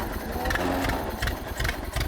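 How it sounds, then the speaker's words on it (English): Ford Model A engine, found in the woods after 91 years, idling with a low rattling, uneven chug that pulses roughly in a steady rhythm close by, with no cranking or starting heard and no talk. "step on the starter, it'll crank a little bit, should fire right off"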